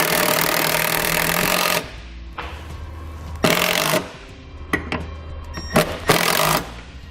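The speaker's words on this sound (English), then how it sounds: "we're going to use some self-tapping screws to secure it to the metal beam here" Self-tapping screws driven into a metal beam on an RV during a flat-tow brake system install, heard as several loud power-driver whirring bursts of varying length with short pauses between them.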